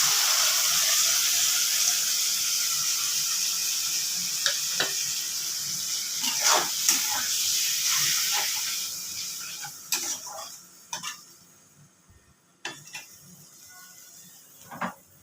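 Ground spice paste hits fried red onions in a pan for a prawn curry, producing a strong hiss of sizzling that gradually fades, broken by sharp clicks and scraping stirs toward the end.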